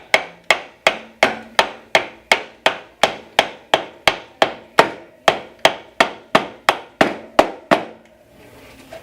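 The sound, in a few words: hammering a track insert into a track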